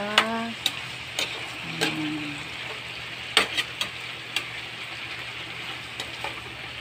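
Food is sautéed in a pan on a slippery home stove, giving a steady background sizzle broken by irregular sharp clicks and scrapes of a utensil against the pan, with faint tonal sounds near the start.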